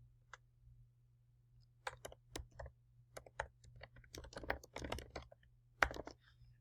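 Text typed on a computer keyboard: faint, close clicking keystrokes in an irregular burst that quickens toward the middle, over a low steady hum, with no speech.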